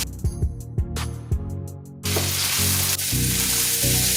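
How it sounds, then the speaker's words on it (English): Diced tomatoes, green peppers and white onion hit a hot pan for an omelet, a few sharp knocks giving way to a loud, steady sizzle that fills the rest of the moment. "I'm going to saute these until nice and translucent"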